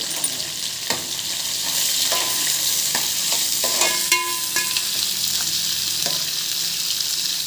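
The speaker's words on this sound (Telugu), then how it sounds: "ఇది చిటపట్లాడింది కదా ఇప్పుడు పచ్చిమిరపకాయలు ఉల్లిగడ్డలు లైట్గా కలర్ మారితే చాలండి ఎక్కువ ఫ్రై కావాలి" Green chillies and onions sizzle and splutter steadily in a hot pan for a Telugu-style spinach and fenugreek leaf dry curry with red lentils. Close, continuous frying hiss with scattered pops and occasional stirring scrapes, no talking.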